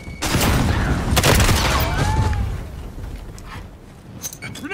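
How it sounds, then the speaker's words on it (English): Gunfire and a grenade blast in Call of Duty Modern Warfare, loud bursts of shots and explosions packed into the first half, easing into quieter scattered combat noise with a few sharp pops near the end. "Throw a grenade!"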